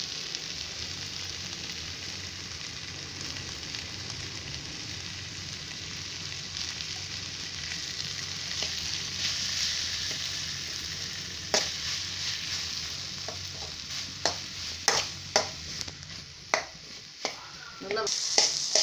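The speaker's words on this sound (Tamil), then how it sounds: "இப்போ உருளைக்கிழங்கு இதில் மிக்ஸ் பண்ணிட்டேன் நல்லா வதங்கிடுது" A potato mixture for bonda sautés in a pan with a constant close sizzle, and a spoon stirring and scraping gives sharp knocks that grow more frequent toward the end.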